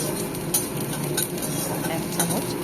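Browning onions fry in a pan tempered with cloves, cinnamon and cardamom, giving a steady soft sizzle with occasional light scrapes and clinks of a stirring spoon, fairly quiet and continuous.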